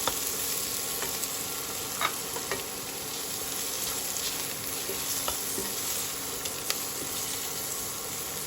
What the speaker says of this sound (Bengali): পেঁয়াজগুলো আমি একটু ভাজতে দেবো,